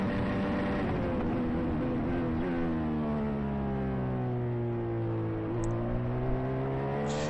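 Onboard helmet-camera view of Romain Grosjean's IndyCar on a flying lap at Laguna Seca: a steady, close engine drone that dips in pitch briefly near the end, as if braking and downshifting, then climbs again, with no talk.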